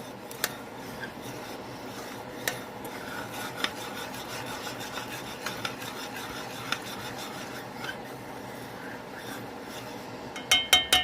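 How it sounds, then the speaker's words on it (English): A spoon stirring a sweet cooking mixture to break up lumps, steady soft scraping and rubbing close by, with a few sharper knocks against the bowl near the end. "And stirring for any lumps. Just get a good stir in there."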